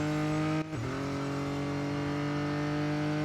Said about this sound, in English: I just can't get over the engine noise.